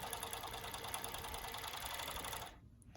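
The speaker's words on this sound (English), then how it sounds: "It's a good idea to try to sew a little bit of the elastic." A Juki 6814 two-needle, four-thread overlock machine with an elastic attachment runs steadily while sewing elastic, a dense, even mechanical whir that continues for about two and a half seconds before cutting off abruptly. No one speaks.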